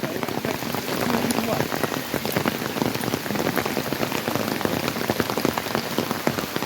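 Rain begins falling at the hill temple of Mel Palani, a steady close patter of drops on surfaces that continues evenly throughout.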